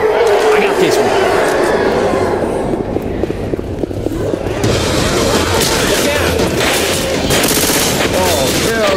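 Bursts of gunfire and heavy booms in the zombie shooter Left 4 Dead 2, rapid shots rattling loudly in clusters across the whole stretch, with people talking over the fighting.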